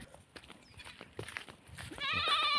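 Goats bleating in a rural provincial setting: scattered rustling and thumps give way to a loud, wavering bleat near the end, close by.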